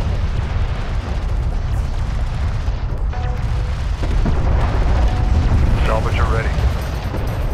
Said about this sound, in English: Enemy railgun firing on friendly